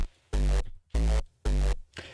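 The isolated tail of a kick drum sample, three heavy booming hits with sustained low-end body and some upper grit, evenly spaced about half a second apart, loud and dry with no voices.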